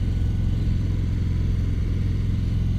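A 2017 Harley-Davidson Dyna Fat Bob on the road, its engine giving a steady, loud low rumble that holds an even pitch throughout with no break or rev change.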